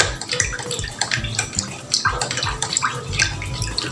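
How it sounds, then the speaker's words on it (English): Natrosol thickener is stirred into water for homemade shampoo, a continuous sloshing, splashing liquid churn that stays busy and fairly loud throughout. "We are still mixing the Natrosol here"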